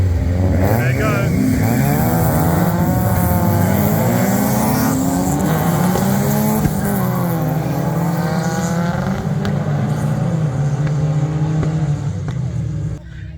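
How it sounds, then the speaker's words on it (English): Opel GSI Superboss cars race a hot lap around DEZZI Raceway, engines loud and steady with rising and falling revs throughout, a dense continuous roar that stays close. "So off they've gone on their first hot lap around DEZZI Raceway."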